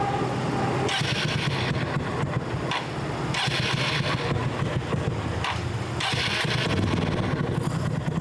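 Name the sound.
stock custom motorcycle engine and exhaust sound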